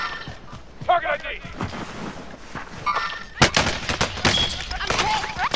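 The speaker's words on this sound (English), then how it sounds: "I'm taking fire!" Gunfire in Call of Duty: Warzone arrives as scattered sharp shots, some single and some in quick bursts, with a heavier volley near the middle, mixed with voices and other game sounds.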